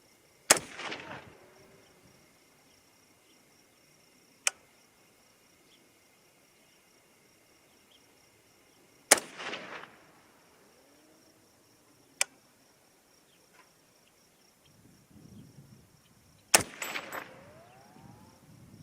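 Three loud, sharp rifle shots from a .300 Ham'r firing Sierra and Speer ammunition ring out several seconds apart, each with a trailing echo. Fainter cracks from other guns at the range fall between them.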